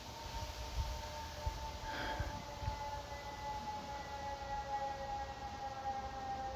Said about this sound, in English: Here come the sirens.